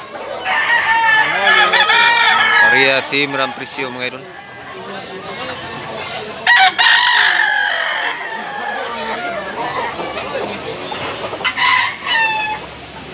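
Roosters crowing loudly and repeatedly alongside clucking fowl at a Cebu gamefowl yard, with someone talking over the birds in the foreground throughout.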